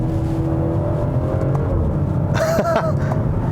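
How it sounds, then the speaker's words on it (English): Steady engine rumble from a 2019 BMW X5 SUV with a straight-six engine, in paddle-shift mode, with a brief exhaust burble and crackle near the end, continuous and close. "It makes a nice little burble from the exhaust, which is lovely."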